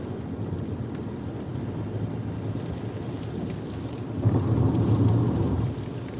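Heavy rain pours down steadily around a car on a live drive through flooding, a broad constant wash that swells louder partway through, with wind noise on the microphone and no voices.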